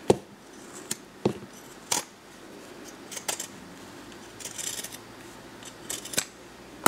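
Scissors cutting fabric for a sewn pouch, giving several sharp close snips spaced irregularly over a quiet background, with a soft rustle of cloth in between and no talking.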